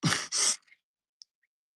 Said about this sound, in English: I didn't mean to yawn like that.